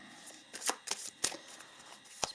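A tarot deck is handled as a card is drawn, giving several soft papery flicks and slaps in an uneven rhythm, close and fairly quiet with no talking.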